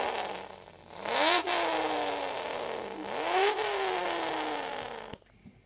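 A voice imitates a muscle car engine, two rising rev sweeps that climb, hold and drop, loud and close, ending with an abrupt cutoff.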